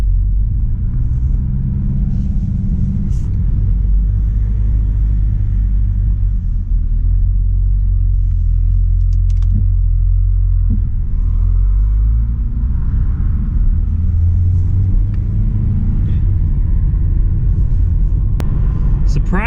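A damaged 2009 Pontiac G5 being driven, its engine giving a steady, deep, close rumble that holds for the whole stretch with no clear revving peaks.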